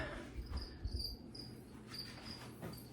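Crickets chirp steadily in a reptile-feeder cricket breeding room, a dense high trill with repeated short pulses, close and fairly quiet, with faint low thumps in the background and no talking.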